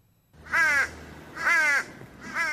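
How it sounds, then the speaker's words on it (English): Three loud, harsh crow caws in Queensland, Australia, at a steady pace, each drawn out and raspy, with quiet gaps between them and no other sounds. "Loud and incessant, crows are the bane of peace and quiet"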